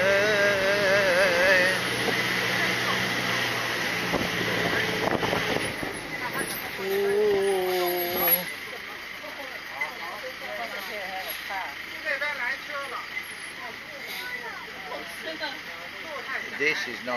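A large non-electric boat engine runs at a rainforest scenic area, a steady mechanical drone under wind noise and nearby talking, with a brief louder whine partway through before settling back to a low hum.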